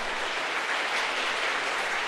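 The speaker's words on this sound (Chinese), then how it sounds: "我们请他们站起来，再一次拍手" A church congregation at a Sunday worship service applauds in a dense, continuous wash of clapping that holds steady throughout, with no speech over it.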